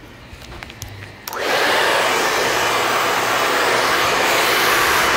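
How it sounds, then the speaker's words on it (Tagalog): A hair dryer switches on after a moment of quiet salon noise and keeps blowing with a loud, steady whoosh while a stylist's assistant blow-dries hair section by section. "Yan mag-blower guys, yung assistant ko guys,"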